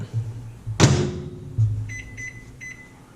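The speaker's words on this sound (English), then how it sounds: "We're actually doing a video of this for a few seconds just to let you know how it sounds when it's working." A Panasonic NN-SN755S microwave oven starts with a sharp thump, then a low running hum continues under a few short electronic beeps, all close and loud with no speech.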